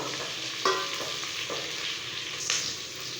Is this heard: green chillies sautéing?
yes